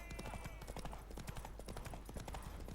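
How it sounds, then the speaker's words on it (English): Faint, rapid clip-clop of horse hooves in a steady galloping rhythm from the video game The Witcher 3, distant and continuous, with no clear talking. "Want that horse, don't ya?"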